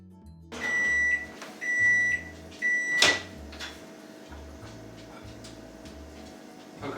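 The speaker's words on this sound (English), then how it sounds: "combine the cream, the caramel, the whiskey, and the butter, and then microwave it for 2 to 3 minutes until it's almost boiling" A microwave oven running and heating a mixture of cream, caramel, whiskey and butter, with three beeps, a door clunk, then a low hum that continues steadily.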